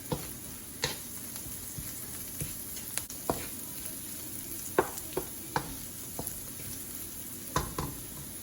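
Salt, pepper and chili flakes being stirred in a pan, giving a steady low sizzle with scattered sharp clicks and scrapes of a utensil against the pan.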